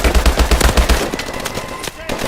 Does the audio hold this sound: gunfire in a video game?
yes